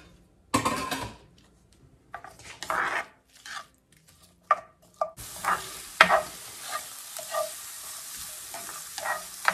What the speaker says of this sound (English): Now I have one small onion and two cloves of garlic that I have chopped the onion and minced the garlic. And I'm just gonna saute these.